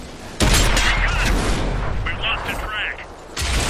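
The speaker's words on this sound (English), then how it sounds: "So we took some return fire there." Heavy tank cannon fire in World of Tanks on Xbox 360, an American T32 taking return shots while side-scraping and getting its tracks hit: a sharp boom near the start, then a second loud blast near the end, over mechanical rumble and game effects.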